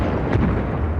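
Bombing of downtown Baghdad, with bombs and cruise missiles striking palaces and secret police headquarters, gives a continuous low rumble of blasts and booms through the whole second.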